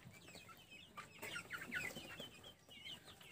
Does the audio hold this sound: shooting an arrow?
no